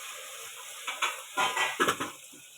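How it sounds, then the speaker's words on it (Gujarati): Brinjal is stirred into vegetables in a pot, giving a few soft scraping and clinking utensil strokes against the pot over a faint background hiss. "રીંગણા એડ કરીને આપણે સેજ હલાવી દઈશું"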